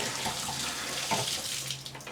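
Tap water running steadily into a sink for washing film, a continuous splashing gush at close range with small fluctuations in the flow and no talking.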